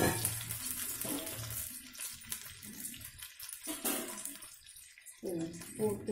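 Water pours into a pan while broken rice upma is being made, a splashing, trickling stream with clatter, heard close and fairly quiet in bursts separated by brief pauses.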